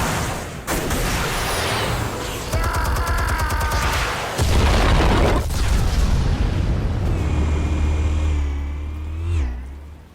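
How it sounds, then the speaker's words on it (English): Explosives detonate in the Batman Telltale video game: sharp bangs and mechanical clatter lead into a heavy, booming blast with a sustained low rumble. Rising whines and debris sounds follow before everything fades out. "Explosives armed. Fire when ready."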